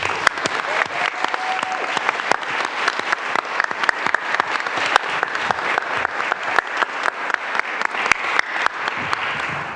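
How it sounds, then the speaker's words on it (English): Sustained applause from the audience at a county board of supervisors meeting honoring Pride Month, a steady dense patter of many hands clapping throughout with no talk over it. "just a quick round of applause again"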